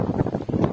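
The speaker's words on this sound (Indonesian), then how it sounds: "Oke, angin kencang bosku." Strong wind gusting across the microphone outdoors during a hunt, a continuous low roaring rumble that swells and dips in uneven surges, loud and close, with no talk.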